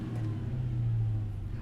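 Dodge Challenger Hellcat Redeye engine, a deep steady rumble with a low droning tone that swells slightly and eases off, close and loud without any voices.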